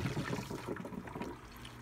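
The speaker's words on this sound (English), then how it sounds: "We've got water flowing" Water trickles steadily through the pump of a Tuxing PCP air compressor, a soft, close gurgle of flowing liquid that thins out toward the end, with no one speaking.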